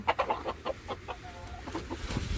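Hens in a country-house farmyard coop give short, bursty clucks in quick clusters, close by, with a brief higher call in the middle and no talking over them.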